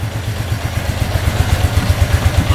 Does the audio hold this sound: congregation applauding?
no